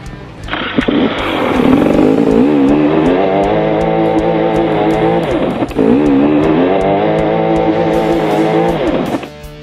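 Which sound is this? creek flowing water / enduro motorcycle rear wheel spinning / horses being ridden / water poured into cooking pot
enduro motorcycle rear wheel spinning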